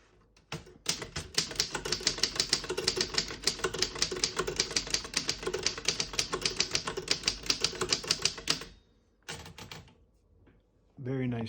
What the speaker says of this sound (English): Very nice typing machine.